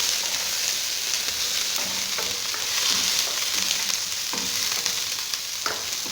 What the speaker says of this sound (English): this point, I'm going to add the broccoli. And I'm going to cook under very low heat. So I'll keep on stirring nicely.